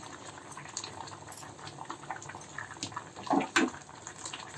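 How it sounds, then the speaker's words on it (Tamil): Urad dal porridge bubbling and simmering steadily in a pot, with soft pops and gurgles close by, a couple of louder bubbles near the end. "ஒரு பத்து நிமிஷம் கொதிக்க விடணும்"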